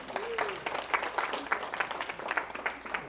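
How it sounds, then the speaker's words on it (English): Scattered audience applause at a seminar on healing from weight stigma, individual claps distinct and uneven in rhythm, fairly quiet and somewhat distant, with a brief voice near the start. "Give yourself an applause."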